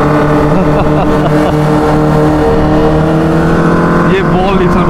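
Kawasaki Ninja H2 motorcycles, fully tuned, pulling away together on a morning ride, their engines droning loud and steady with rising revs, while people talk over the noise.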